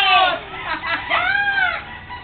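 Chickens cluck and squawk close by in a busy run of overlapping calls, loud and bright, with a voice briefly mixed in.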